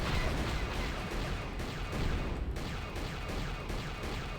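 Sci-fi blaster firefight from the Star Wars video game Knights of the Old Republic, a dense continuous barrage of rapid shots and bursts at steady loudness with no pauses, no talk over it.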